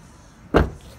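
A short mechanical whir of an electric rear window on a 2017 Vauxhall Astra 1.4, a single brief burst of about a quarter second, close by, with quiet around it.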